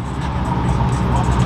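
A Chevrolet Corvette C8 supercar drives past on a street outside Dallas Cars and Cantina, a brief rising engine rush mixed with crowd noise and traffic.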